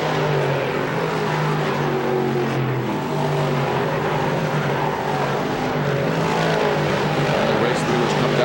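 Dirt-track race cars at Syracuse roar down the front straightaway in a continuous, loud engine blare during the Eckerd 200, with a commentator talking over the noise.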